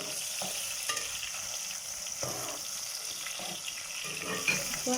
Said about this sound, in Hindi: इसको हल्का सा फ्राई करेंगे।